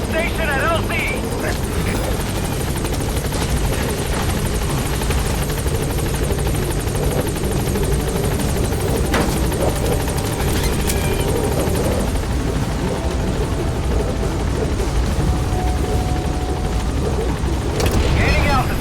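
In Metal Gear Solid V, a helicopter arrives at a landing zone: a loud, steady rotor roar with rumbling low thump fills the whole span, with radio voices talking over it.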